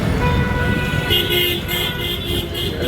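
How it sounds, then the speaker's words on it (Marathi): A campaign vehicle's engine rumbles loudly close by as it passes on an election campaign run, with steady traffic noise and a horn tooting repeatedly over the din. "साहेबांची गाडी जाते"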